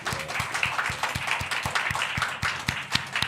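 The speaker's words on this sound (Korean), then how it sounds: "우리 이런 나라를 우리에게 주신 하나님께 감사의 박수를 한번 올려드립시다." A church congregation claps together in steady, rhythmic unison, the sharp, evenly spaced claps filling the room at moderate volume with no talking over them.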